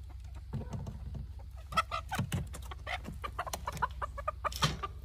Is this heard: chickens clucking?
yes